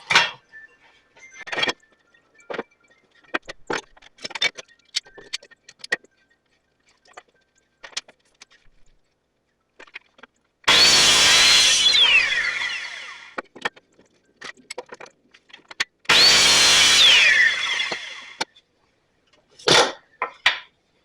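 A teak wood border is sawn off a stand in two loud, steady bursts of several seconds each, surrounded by sparse workshop clicks, knocks and handling noises, with a short final burst near the end.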